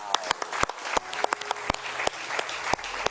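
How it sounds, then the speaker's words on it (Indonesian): Studio audience applause for Natasha Rizky comes as sparse, distinct claps at an irregular, close, fairly loud rhythm, without a full crowd wash. "Boleh tepuk tangan buat Natasha Rizky"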